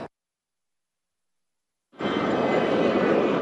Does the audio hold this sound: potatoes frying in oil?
no